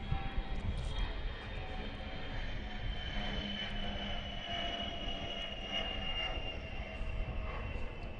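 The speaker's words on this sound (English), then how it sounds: "So we have another plane going right over us here at Bill Tipton Field." A fixed-wing airplane climbs out just after takeoff and passes overhead near Bill Tipton Field during a regional baseball game, its engine a steady, broad roar that holds strong for several seconds above faint crowd ambience.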